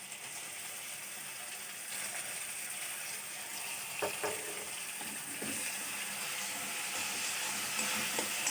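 Chili powder and ginger paste frying in a pan for a vegetarian potato-cauliflower curry, a faint steady sizzling hiss with a few soft stirring taps and scrapes, no talking.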